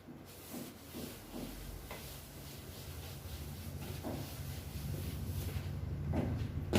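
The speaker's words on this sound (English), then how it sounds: "Let me first rub the board." A classroom board being rubbed clean during a maths lesson: soft, repeated hissing swipes of wiping, continuous and fairly close, with no voices.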